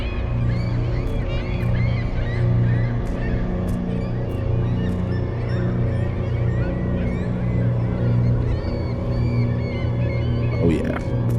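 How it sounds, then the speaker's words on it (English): Seagulls cry in The Lightkeeper video game, repeated honking calls that rise over a constant low droning ambience, with one sharper squawk near the end. "So that's why the birds are crying out."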